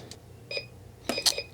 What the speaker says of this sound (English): I held it down till it beeped